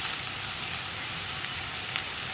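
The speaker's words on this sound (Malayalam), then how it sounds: "ഇനി ഈ സവോള ഒന്ന് നന്നായിട്ട് വഴച്ചെടുക്കുന്നത് വരെ ഇളക്കി കൊടുക്കാം." Sliced onions fry with a steady, soft sizzle in a pan while being stirred for a green peas and egg fry, a continuous hiss with no voices.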